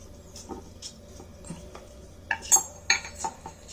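Coffee powder hair dye being stirred in a bowl, a spoon scraping and clinking against the sides with a few sharper taps near the end, close and fairly quiet.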